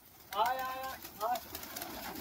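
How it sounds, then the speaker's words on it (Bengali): A flock of about 300 mostly white high-flyer pigeons is fed by an older man; short tonal calls rise over soft flock noise, with a voice briefly heard. "দেখুন কাকা খেতে দিচ্ছে পায়রাগুলোকে"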